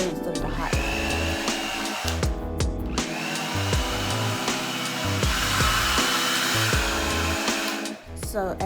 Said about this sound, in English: as I'm testing out the blow dryer and trying to see the pressures and how much heat come out